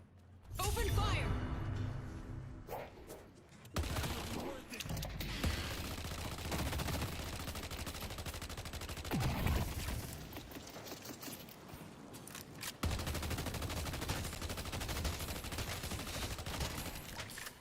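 Video game gunfire crackles in sustained, fairly faint volleys with mechanical clatter. A brief burst is followed by long continuous stretches, and people talk over it at times.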